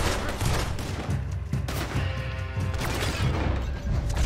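Gunfire in Red Dead Redemption 2 rings out as a rapid run of loud, sharp shots and booming cracks, several close together over about four seconds, with no talk over it.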